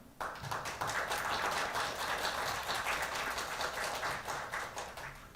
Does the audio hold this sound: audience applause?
yes